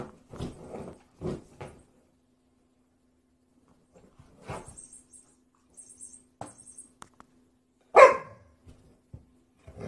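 A Gerberian Shepsky dog throwing a tantrum, giving short scattered barks and whiny yelps with quiet gaps between them in an indoor room, ending with one sharp, loud outburst near the end.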